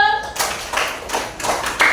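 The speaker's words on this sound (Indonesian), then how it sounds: "Oke, tepuk tangan dulu." Students in a classroom clap together on a teacher's cue, a series of sharp, rhythmic hand claps in quick bursts, close and loud, with a brief voice at the start.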